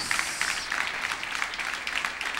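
Congregation applauding in a church during a youth week service, a dense steady wash of clapping filling the whole moment without a break.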